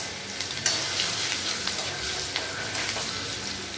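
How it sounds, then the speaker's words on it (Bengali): Chopped garlic fries in a pan of oil left from frying fish, a steady close sizzle with a few stirring scrapes and clicks, no talking. "দেখো ফার্স্টে আমি রসুন কুচি দিয়ে দিলাম।"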